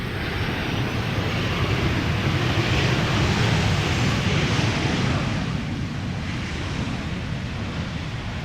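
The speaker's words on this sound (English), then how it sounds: "this little itty bitty airplane has to get off the runway" A small airplane on the runway at Amsterdam Schiphol Airport makes a loud, steady broadband engine roar that fills the whole clip and eases slightly toward the end.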